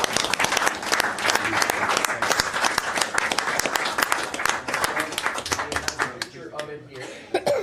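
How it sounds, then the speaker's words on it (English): A room at a town council meeting breaks into sustained applause, many hands clapping densely and loudly for several seconds, with some chuckling mixed in before the clapping thins out near the end. "Let's give him a round of applause, please."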